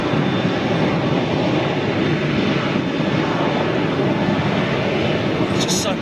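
Boeing 757 jet approaching head-on on a departure intercept, a steady, broad, loud engine roar that holds throughout with no letup.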